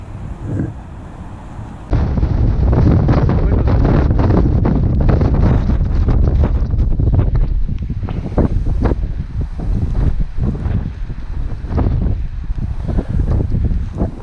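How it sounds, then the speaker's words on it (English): Strong wind buffets the microphone in a sudden loud gust of about 40-45 miles an hour that roars on with fluctuating intensity. "A little bit windy, huh? That gust had to be 40-45 miles an hour, easy."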